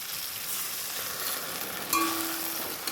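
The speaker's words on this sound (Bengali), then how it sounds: "গুলে রাখা কর্নফ্লাওয়ার" Cornflour slurry hits a pan of fried tomato, capsicum, onion and green chilli for chilli chicken, a steady close sizzle that flares briefly midway with a short clink.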